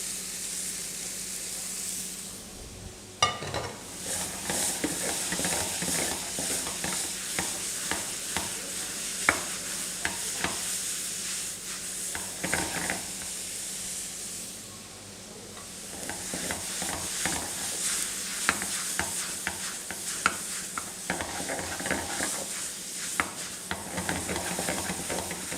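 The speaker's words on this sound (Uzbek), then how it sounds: "Piyoz va qizil, yashil bolgarskiyni solib hammasini birgalikda qovuramiz." Onion with red and green bell peppers frying together in hot oil, a continuous close sizzle and hiss with scattered crackles and pops, briefly easing twice, no voices.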